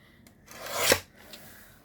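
A paper trimmer slices along the side of a paper brochure in one short, swelling rasp that peaks and fades in about half a second, close and alone.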